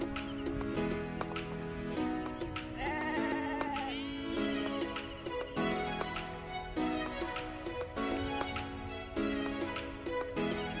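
A flock of sheep in a shepherd's open-field setting bleats repeatedly, overlapping wavering calls near and far over a steady, busy background.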